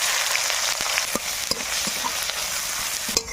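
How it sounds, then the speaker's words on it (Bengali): Chopped onions sizzle steadily in a pan with cumin seeds and bay leaves, a dense close frying hiss broken by frequent clinks and scrapes of stirring, no voices. "এবার কেটে রাখা পেঁয়াজ দিয়ে দেবো"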